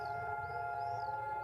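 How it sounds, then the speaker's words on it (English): A civil defense siren sounds to mark Israel's Memorial Day, a steady wailing tone with slow pitch swells, moderately faint and unbroken through the short stretch. "As a siren sounded to mark the beginning of Israel's Memorial Day, the country came to a standstill."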